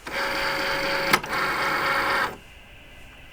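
A Cricut Maker cutting machine loading its mat, a steady mechanical whir with a brief click partway, then the motor stops and leaves near silence.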